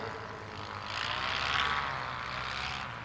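A vintage propeller aircraft flies past at an evening air display into the wind, its engine drone rising and swelling in the middle before easing off, heard from a distance with no talk.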